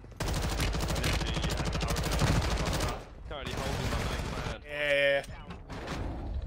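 Rapid bursts of automatic gunfire in Call of Duty: Warzone 2.0 ring out, loud and close, with a long sustained volley followed by shorter bursts and mechanical clicks, while players talk over it.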